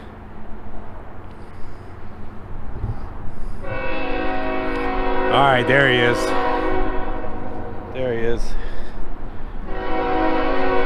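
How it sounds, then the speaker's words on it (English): A train rolls past a truck stop area, its horn sounding in long loud blasts with a short pause between, over a steady rumble of rail cars; someone speaks briefly over the noise. "But I heard a train coming."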